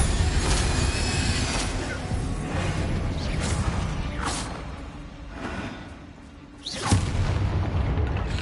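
Bombarda spell explosions in the video game Hogwarts Legacy: several loud booming blasts and whooshes in a busy combat mix, with a sharp burst near the end and no talk.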